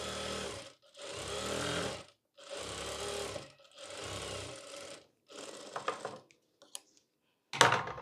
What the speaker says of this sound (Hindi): ये देखिए इससे ये मजबूती के लिए मैं सिलाई लगा रहा हूँ